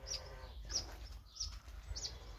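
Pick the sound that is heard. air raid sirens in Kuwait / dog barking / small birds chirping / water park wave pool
small birds chirping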